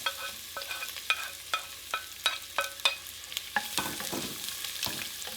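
Curry leaves, pandan and cinnamon stirred in a pan for a Sri Lankan vegetable curry, with a quick run of sharp utensil clicks and scrapes over a soft sizzle, close and without speech.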